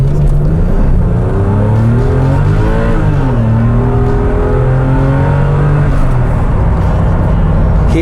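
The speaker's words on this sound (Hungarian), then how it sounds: "csak hogy nézzétek meg egy ilyen gyorsulást egy rendes automata váltóval." A Porsche 996 with an automatic gearbox accelerates hard, the engine note rising loudly and steadily through the gears with a brief dip at each shift, heard from inside the car.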